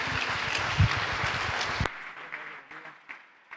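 A church congregation applauds for its pastor during a service. Dense, full applause fills the first half, then cuts off abruptly to a few faint, scattered claps.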